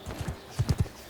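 Horse hooves clip-clop in quick uneven beats during a battle in Mount & Blade, a cavalry horse moving close and fairly loud with no other sounds over it.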